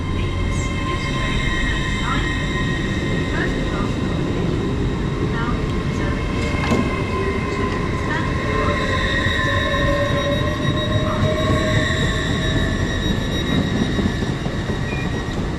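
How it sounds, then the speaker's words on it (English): An Azuma passenger train pulls into Newark North Gate station, its steady loud rumble and rising electric whine filling the platform for the whole stretch, with no talk over it. "We've got another Azuma turning up now as well."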